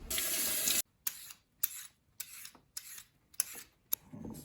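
Water runs from a kitchen tap while carrots are washed, starting as a loud steady stream, then breaking into short splashing bursts as the flow is interrupted.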